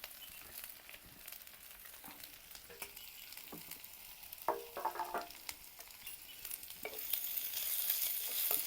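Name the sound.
onion and chilli frying and being stirred in pan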